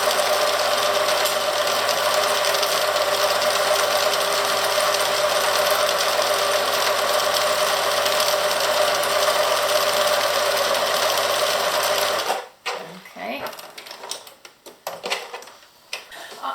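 A sewing machine stitches continuous piping at a tight stitch length of 2, running steadily and loudly for about twelve seconds before stopping, followed by soft handling noises.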